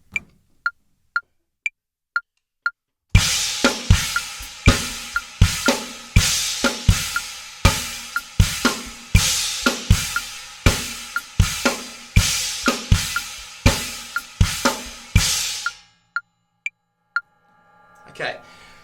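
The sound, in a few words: drum polyrhythm played on china cymbal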